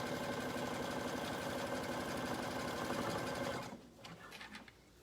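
A sewing machine stitches swimsuit fabric with elastic in a fast, steady mechanical whir, close and loud for several seconds before stopping abruptly, followed by a few faint clicks and handling noises.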